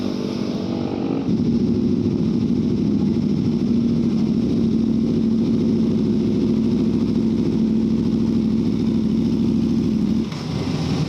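A superbike engine idles loudly and steadily nearby, a deep even rumble with a slight rise in revs at the very start.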